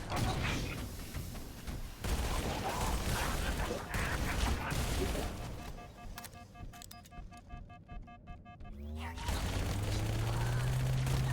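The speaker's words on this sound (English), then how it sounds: "God, I kind of love the SMG just being a fucking bullet hose." Rapid automatic SMG gunfire from Halo: Campaign Evolved, a dense sustained burst of shots under mixed game sounds, followed by quieter mechanical effects and a low rising tone.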